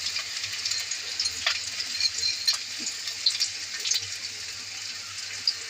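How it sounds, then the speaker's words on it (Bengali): Onion and green chilli frying in hot oil in a pan, a steady close sizzle with crackly spits and light clinks, no talking. "তেল গরম হয়ে গিয়েছে, এখন আমি পেঁয়াজ ছেড়ে দেব, কাঁচামরিচ ছেড়ে দেব।"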